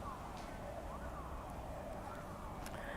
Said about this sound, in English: You can hear all the sirens.